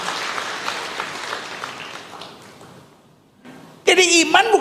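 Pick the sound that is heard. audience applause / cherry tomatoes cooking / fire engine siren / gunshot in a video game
audience applause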